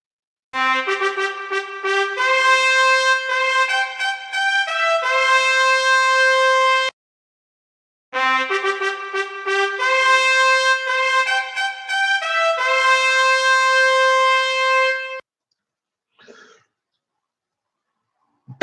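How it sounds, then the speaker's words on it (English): A trumpet sounds a call in two phrases of bright, sustained stepping notes separated by a short pause, then fades into near silence. "That is the sound of the trumpet that you've just heard."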